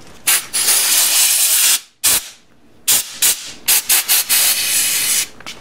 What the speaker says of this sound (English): Now I'll blast all this stuff out with some compressed air before I go any further.